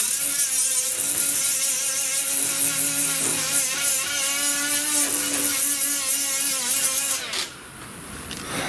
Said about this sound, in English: This is actually a sandpaper pad. I'm not pushing on it real hard.